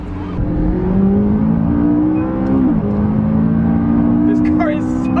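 A Lamborghini engine roars loudly and close, its pitch rising briefly as it accelerates, then settling into a steady high drone.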